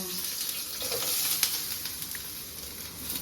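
Onion and green chilli frying in a pan, a close, fairly quiet sizzle with a few light clinks and stirring scrapes, no talking.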